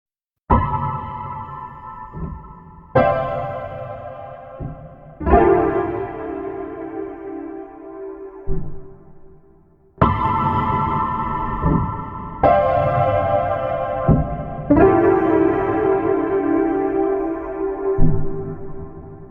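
Piano chords with reverb and no compressor ring out one after another, each sustaining and slowly fading with a spacious, reverberant tail, no voices present.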